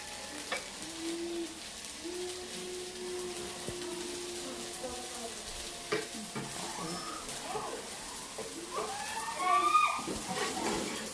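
Rice stir-frying in a pan gives a low, continuous sizzle with occasional stirring knocks. Faint voices talk in the background throughout.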